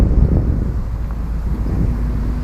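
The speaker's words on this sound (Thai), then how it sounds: "ลมไวๆนะครับ ลมเย็น ๆ" Strong, cool wind gusts across an outdoor construction site where a Kobelco crane lifts piles, a steady low roar of wind buffeting the microphone throughout, with no voices.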